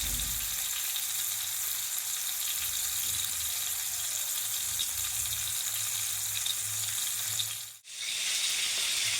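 Cauliflower frying in a pan with cumin, coriander and pepper, giving a steady, loud, close hiss of sizzling oil that runs unbroken, with a brief dip near the end.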